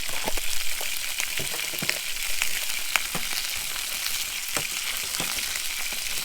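Sausages sizzle in a generous amount of butter in a pan, giving a steady, close crackling hiss with scattered sharper pops throughout, and no voices.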